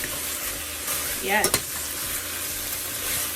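Jamaican-style stew pork frying in a pot gives a close, steady sizzle, with a brief clatter of stirring midway and a single short spoken word.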